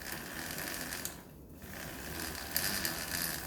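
A bicycle derailleur pulley lubricated with Triflow spins while being wiped with a rag, giving a steady close whirring, ratcheting rustle that dips briefly midway and then returns louder.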